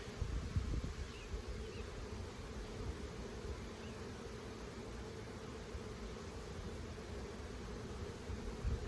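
Honey bees buzz continuously during a hive inspection, a dense, steady hum close by with faint rustling and no talking.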